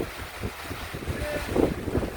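Wind gusts across the deck of a Leopard 45 sailing catamaran, a steady buffeting rumble against the microphone with faint water sounds beneath.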